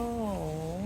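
A young kitten meows once in a shopping mall, a drawn-out, slightly falling call heard close up and alone.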